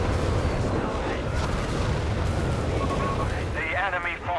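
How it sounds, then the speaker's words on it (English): An infantry artillery barrage rumbles in Company of Heroes 3, with dense overlapping booms and explosions filling the battlefield, while a commentator talks over the game noise. "we got an infantry barrage here."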